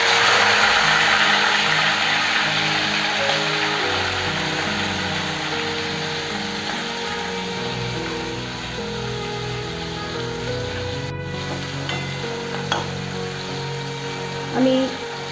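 Small chuno fish go into hot mustard oil and start frying, giving a steady, loud sizzle and hiss that keeps going throughout, along with a few faint clinks near the end.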